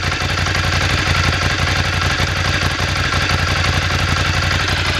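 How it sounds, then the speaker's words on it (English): An air-cooled Ducati V-twin motorcycle with standard exhausts idles steadily up close, a continuous low throbbing rumble that holds an even level throughout with no voices. "air-cooled Ducati V-twin. I think they made a really nice job of these nice neat exhausts as well."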